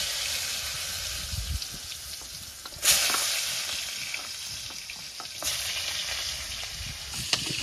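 Pointed gourd coated with a little turmeric and salt fries in hot oil in a wok, giving a steady close sizzle with a sharp burst of spitting as pieces hit the oil.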